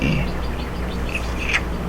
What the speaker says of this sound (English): You guys can hear my birds.